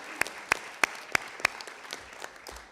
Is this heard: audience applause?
yes